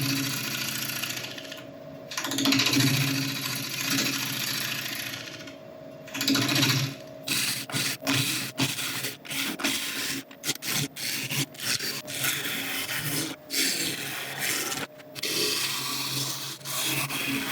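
A wood and resin blank spins on a lathe at about 850 RPM, giving a steady hum and rubbing scrape, then broken into repeated short cutting and scraping bursts with brief gaps.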